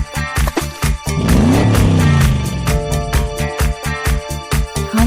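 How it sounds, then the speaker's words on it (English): A motorcycle engine revs loudly, rising in pitch and then settling, with sharp rhythmic pulses before and after the rev in a busy, music-like mix of vehicle sounds. "Motorcycle."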